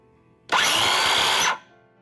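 A Porter Cable 18V cordless drill, running from a 20V Black & Decker battery through an adapter, spins up abruptly, holds a loud steady whine for about a second, then winds down and stops.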